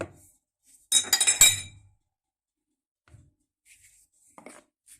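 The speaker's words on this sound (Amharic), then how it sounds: "እንደዚህ በደንብ ቀላቅሉት።" Metal utensil clinking against a bowl while mixing flour, a quick cluster of bright clinks and scrapes followed by a few faint, scattered taps in near silence.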